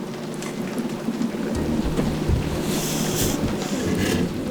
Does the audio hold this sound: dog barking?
no